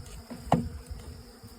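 Honey bees buzz around a beehive frame during a swarm, a faint low hum with one bee passing close for a short, louder buzz before the sound settles back to a soft background drone.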